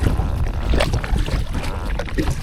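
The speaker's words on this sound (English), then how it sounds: "just do a little paddle around the pond" A kayak is paddled around a pond on a day with a slight southerly wind, with close splashes and dips of the paddle under a steady rush of wind noise.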